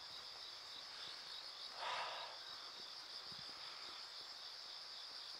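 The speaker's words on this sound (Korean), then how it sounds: "귀뚜라미 소리죠 지금" A steady, faint chorus of crickets trills continuously in the distance, with a brief soft rustle partway through.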